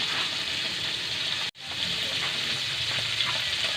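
Fish or other food frying in a pan for a cheap home meal, a steady close sizzle with a brief cut to silence midway before the crackling resumes.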